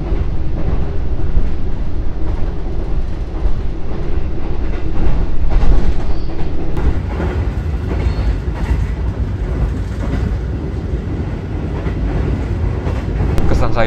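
Kamandaka passenger train running on the rails out of Semarang Poncol station in Java, heard from inside the carriage as a steady, loud rumble with faint clickety-clack of the wheels throughout.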